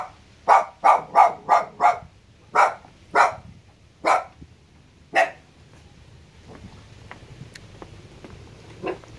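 Several dogs barking at a riverside household on Con Son islet near Can Tho, a burst of about ten sharp, fairly close barks in quick succession, then quieter, scattered barks against a faint outdoor background.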